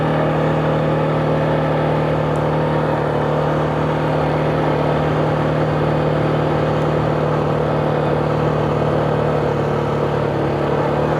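A CFMoto CForce 520 ATV drives along a Finnish Trans Euro Trail route, its engine a loud, steady close-up drone with constant whirring and road rumble throughout.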